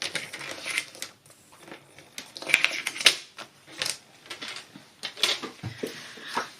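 A paper trimmer slices through paper strips with backing paper during card making, producing soft, close scraping and clicking sounds in short irregular bursts, faint and without talk.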